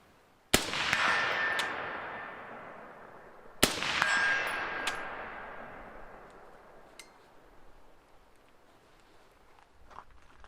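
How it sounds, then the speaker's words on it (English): Two sharp rifle shots about three seconds apart, each followed by a ringing metallic clang from a steel silhouette target 100 yards downrange, with long decaying echoes and a few fainter distant taps afterward. "me shooting out to about 100 yards on steel using that IR light"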